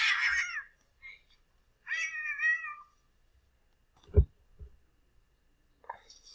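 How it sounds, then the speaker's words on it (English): A cat gives two clear meows with a pause between them, followed by a few softer, shorter sounds, heard close and alone in a quiet room. "Silly cat."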